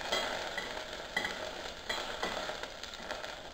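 Onion fries in a hot pan with olive oil, giving a continuous bright sizzle that stays loud and close, with a few soft stirring scrapes and small crackling bursts and no voices.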